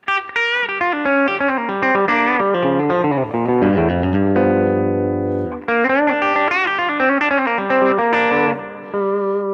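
An electric guitar runs a minor pentatonic blues line over a G7th chord through distortion and chorus effects, with bent and sustained notes and a held low chord in the middle, loud and close with no talking.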